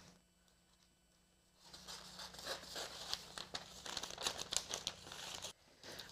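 Scissors snip and crinkle through a sheet of freezer paper up close, a quiet run of crisp rustling cuts after a near-silent pause.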